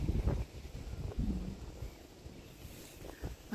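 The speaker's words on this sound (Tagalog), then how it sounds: "Malamig, malakas ang hangin." Strong cold wind buffets the microphone in heavy low rumbling gusts in a front yard garden with lavender, loudest at the start, with a faint rustle behind it.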